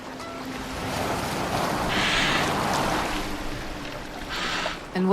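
Boat gliding over open sea in the Viking-era game Assassin's Creed Valhalla, a steady wash of waves and hull spray with wind, rising and falling evenly throughout at moderate loudness, with no talking over it.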